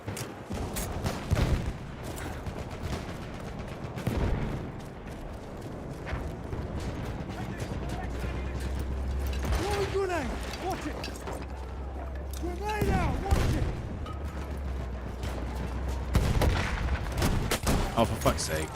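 Steady gunfire in a video game shooter, with sharp rapid shots crackling throughout under a continuous low rumble and some booms. A person talks over the shooting now and then.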